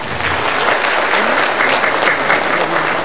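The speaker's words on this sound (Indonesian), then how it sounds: "Tepuk tangan dong." Dense, steady applause from a lecture audience at a public talk and book review session, filling the whole stretch at a loud, even level with no talk on top.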